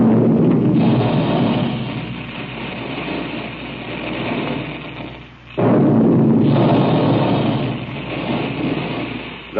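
A booming cannon-like blast effect in an old Quaker Puffed Wheat and Puffed Rice radio ad, loud and sustained with a rumbling roar that briefly dips and then surges again.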